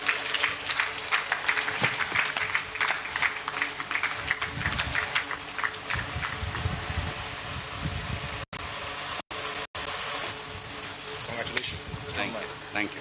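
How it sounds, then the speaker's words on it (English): A crowd at a corporate event applauds loudly and continuously to welcome a group chairman, with cheering and voices mixed into the sustained clapping. "please help me with applause to welcome the chairman of the B5+ Group, Mr. Mike Mukesh Thakwani"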